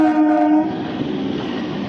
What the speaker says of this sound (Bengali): ঢুকছে লালগোলা প্যাসেঞ্জার